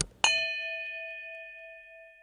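A bright notification bell ding sounds once after a short click, with a clear ringing tone that decays slowly over two seconds in otherwise quiet surroundings.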